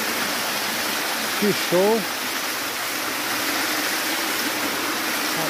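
A rocky creek and waterfall at Goiabal in Bom Jardim give a constant loud rush of flowing water, close by; a voice briefly exclaims partway through.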